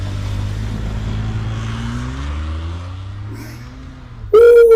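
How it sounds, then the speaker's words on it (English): An old Kia with all-wheel drive on and traction control off churns through snow in a snowstorm, its engine droning steadily under hard throttle for several seconds before a sudden loud, high-pitched whine or rev surges at the end. "and give it lots of gas."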